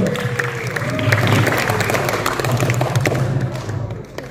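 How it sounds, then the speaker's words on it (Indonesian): Audience at a film premiere gala applauds loudly, a dense burst of clapping mixed with thumps and crowd noise that swells, holds and then fades toward the end. "tepuk tangan sekali lagi yang meriah untuk Bang Bijol"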